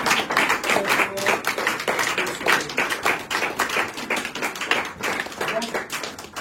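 Congregation clapping together during a Sunday prayer and deliverance service in a church, steady rhythmic applause with voices mixed in throughout.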